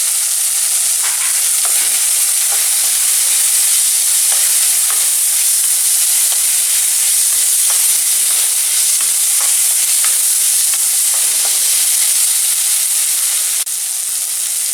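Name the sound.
Gobindobhog rice, cashews and raisins stir-fried in spice masala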